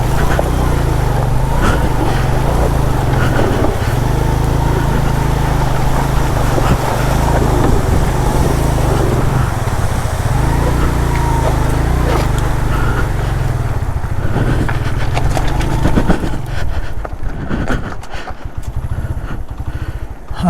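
Motorcycle engine droning steadily while riding a rough gravel track through water, a loud continuous rumble with splashing, fading toward the end.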